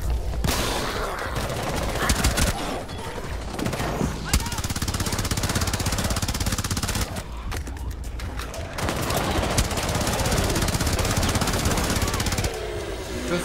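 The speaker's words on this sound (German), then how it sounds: "Ich baller drauf" Rainbow Six Siege gunfire in Outbreak mode: loud, sustained automatic bursts and rattling volleys fill almost the entire stretch, with brief gaps and a closing pause.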